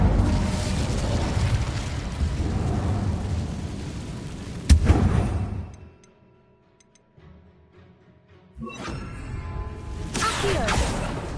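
The Incendio fire spell is cast in Hogwarts Legacy with loud roaring bursts of flame and explosive booms. The roar cuts off abruptly into near silence, then a fresh fiery burst erupts again.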